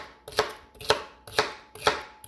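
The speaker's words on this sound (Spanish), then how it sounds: "Ya nomás picarlo." Knife chopping aloe vera, cucumber and other smoothie ingredients on a cutting board, four crisp evenly spaced chops, close and clear with no talking.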